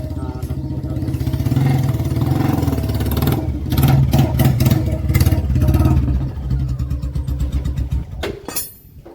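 A loud engine runs close by, revving up and down with a rough mid-pitched chug and a few sharp clanks.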